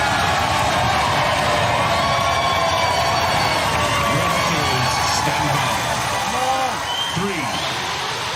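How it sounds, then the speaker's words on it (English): Television studio audience at a robot combat show cheers and applauds loudly, a dense roaring crowd with whoops and shouts layered over continuous clapping. "Give them a round of applause, ladies and gentlemen."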